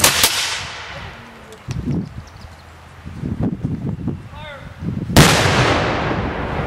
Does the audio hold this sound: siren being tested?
no